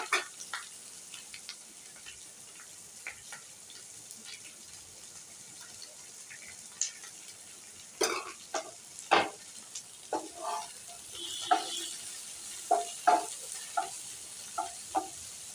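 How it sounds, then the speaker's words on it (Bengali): Bitter gourd fries in a pan with a soft, steady sizzle, broken by louder scrapes and clatters from stirring that come in irregular bursts toward the end. "উচ্ছেটা চাপা দিয়ে করে নেব, একটু চাপা দিয়ে উচ্ছেটা ভেজে নেব"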